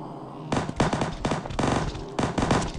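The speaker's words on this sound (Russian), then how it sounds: "Слушай, это снайпер так шмаляет на таком расстоянии." A sniper rifle fires in Zombie Forest HD, with loud, close volleys of rapid shots in several bursts separated by brief pauses.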